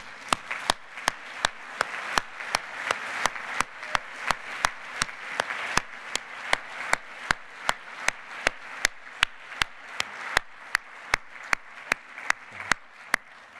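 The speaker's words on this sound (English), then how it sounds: "let everybody give you a round of applause" Audience applause at a medical science event, a crowd clapping steadily and loudly for the whole stretch with sharp regular claps standing out near the front, no talking.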